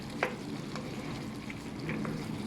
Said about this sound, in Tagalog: Alright, halo-halo. Haluin ng haluin.